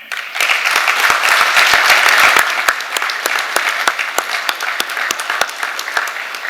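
An audience at a US Army event with Ghanaian military leadership applauds: a full burst of clapping that thins after a couple of seconds into scattered, distinct claps.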